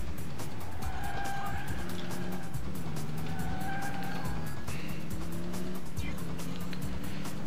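Racing car in the police video game Alarm für Cobra 11 Highway Nights, its engine droning steadily throughout while tires squeal and skid in repeated bursts, loud and close, with no talking.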